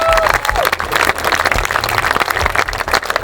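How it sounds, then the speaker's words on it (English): Festival crowd applauding at an outdoor rally arena, dense and steady with loud claps, sharp thumps and scattered cheers throughout. "let's have a massive, massive round of applause for the one and only Abr"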